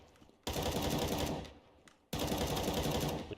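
Automatic rifle spray fire in CS:GO, two long sustained bursts of rapid, loud gunshots separated by a short pause.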